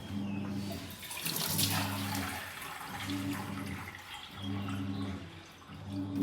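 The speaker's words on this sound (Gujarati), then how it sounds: "આપણા પાણી નાખી દેવાનું અંદર" Water pours into a patra batter mixture, a soft continuous splashing gush that swells and eases, with a low rhythmic hum running beneath it; no talking is heard.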